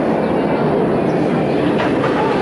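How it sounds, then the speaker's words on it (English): An amusement park train at Cedar Point rolls past nearby with a steady rumbling clatter of wheels on track, loud and continuous for the whole stretch. "There's a train over here."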